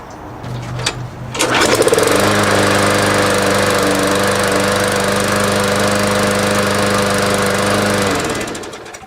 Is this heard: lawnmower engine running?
yes